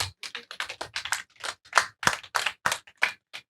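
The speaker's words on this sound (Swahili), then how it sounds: "Jamani, mpigeni makofi yule." Scattered hand clapping from a small workshop audience applauding a speaker, a run of uneven individual claps and short bursts, close and fairly quiet, with no talk over it.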